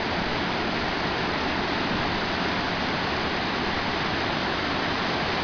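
Water pours steadily over the roughly 15-meter Santuario waterfall in the Amazon, where swimmers gather below. The roar is loud, close, dense and unbroken, and no voices come through.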